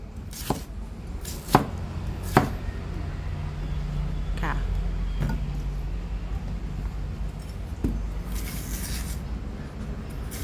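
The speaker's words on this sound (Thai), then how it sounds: "เรามาดูการหั่น บัวหิมะเลยนะคะ" A knife chops peeled snow lotus (yacon) root on a cutting board, a few sharp, separate cuts spaced out over a steady background hum, close and distinct.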